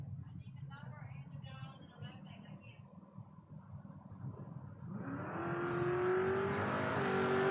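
A Ford Mustang drag car accelerating hard down the strip at a drag racing event, its engine rising from a distant rumble into a loud, climbing roar under a public-address announcer talking.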